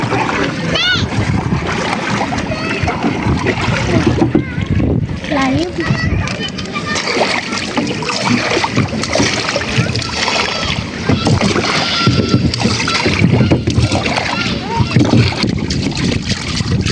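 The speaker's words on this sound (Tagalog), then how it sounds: "malakas ang hangin" Constant loud wind buffeting the microphone over open water, with splashing and people, including a child, talking throughout.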